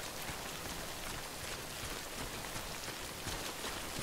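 Timefall rain in the video game Death Stranding, a dense, even hiss of falling rain pattering on surfaces, continuous and fairly loud with no speech.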